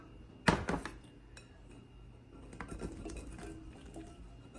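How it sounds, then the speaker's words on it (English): Cored, quartered cherries tumble into a cooking pot for jam, a sharp clatter and clink against the metal at first, then softer scattered taps and rustling as the fruit settles, fairly quiet overall. "So place your cherries in the pot, add your Dżemix"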